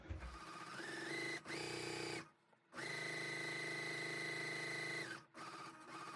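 A sewing machine stitches a quilt block along a drawn line, its close, loud mechanical whir running in two long bursts with short pauses and a brief silence between them.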